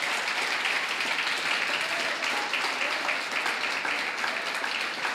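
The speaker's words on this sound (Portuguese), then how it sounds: "Você pode aplaudir o Senhor por isso?" A church congregation applauding during a worship service, a dense and even wash of clapping from many people that holds steady for the whole stretch.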